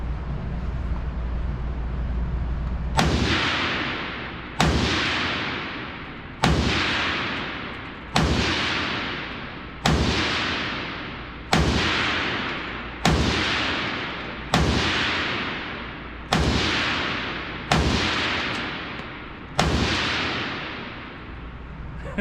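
An FN Herstal PS90 carbine fires about a dozen loud, sharp single shots at an outdoor range, evenly spaced roughly every one and a half seconds, each crack followed by a short decaying echo, with no voices over them.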